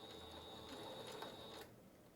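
A sewing machine stitching fabric for a cross-stitch project bag, a steady whirring mechanical run with a constant high whine, close and quiet, stopping abruptly near the end.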